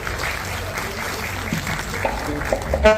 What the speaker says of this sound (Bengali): আমাদের মিউজিশিয়ান দাদাদের জন্য, মিউজিশিয়ান বন্ধুরা যারা রয়েছেন তাদের জন্য একটা জোরে হাততালি হয়ে যায়